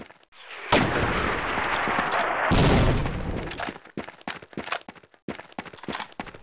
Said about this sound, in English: A mortar.